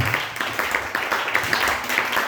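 Church congregation applauding and clapping in rhythm to acclaim the Lord, a dense, lively burst of hand claps throughout with crowd noise underneath.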